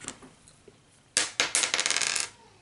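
Dice roll across a table during a Shadows of Brimstone board game, a few faint clicks and then a burst of sharp rattling clatters that settle quickly, close and alone without talk.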